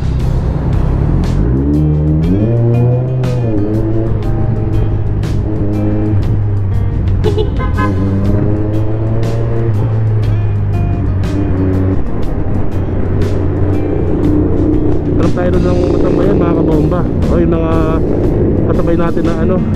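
Kawasaki Ninja 400 motorcycle on a ride in Cuenca, Batangas, its engine loud and close as it revs and shifts through rising gears, with wind noise and talk over it.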